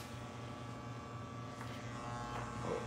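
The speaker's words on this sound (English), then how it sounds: "My trimmers, apologize about that, are a little sharp." Electric hair trimmers buzz steadily close by while cutting a bald taper, a continuous low hum that runs throughout without breaks.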